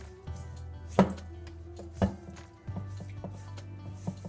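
A spoon works a stiff flapjack oat mixture in a bowl, giving a low scraping, grinding churn punctuated by a few sharp knocks against the bowl, close and quiet.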